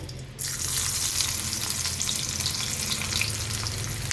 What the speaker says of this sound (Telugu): ఆయిల్ వేడిన తర్వాత 2 లవంగాలు, దాల్చిన చెక్క, ఉల్లిపాయ ముక్కలు,